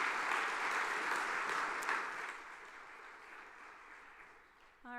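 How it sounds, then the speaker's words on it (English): A general-session audience at a conference applauds steadily, a dense wash of clapping that fades gradually, with a brief tone at the very end. "Everybody, let's give him a round of applause"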